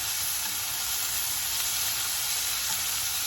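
Chicken browning in a hot pan for a keto chicken and spinach casserole, a steady, dense sizzle and hiss that holds evenly close up throughout, with no talking.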